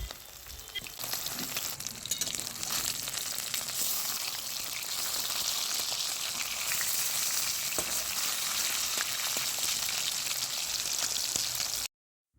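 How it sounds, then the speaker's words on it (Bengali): Katla fish pieces frying in mustard oil give a constant, crackling sizzle that runs at an even level, then cuts off abruptly near the end. "মাছগুলো ভালো করে ভেজে নেব লাল লাল করে"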